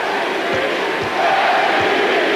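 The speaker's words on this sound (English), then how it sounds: "MVP is the chant from the crowd here" A basketball arena crowd at a Bulls versus Cavaliers game chants MVP in a loud, rhythmic, repeated call, filling the space as a dense wash of many voices.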